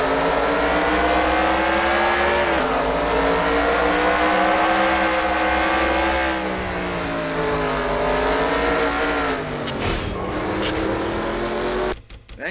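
Race car engines from the NR2003 racing game drone loud and steady, several cars' pitches rising and falling together as they lap, ending in a few brief clattering hits.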